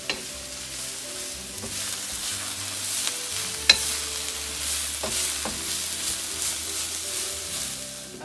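Vegetables and mung bean sprouts are stir-fried in a wok with a steady close sizzle. Occasional sharp clinks and scrapes of a utensil against the metal break through, and no one speaks.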